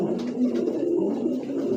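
A young Belgian-bred racing pigeon coos close by, low throaty rolling calls repeating steadily without pause for under two seconds, with no voices.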